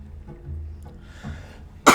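A single sharp, loud cough bursts out near the end after a short stretch of soft, quiet breathing and rustling.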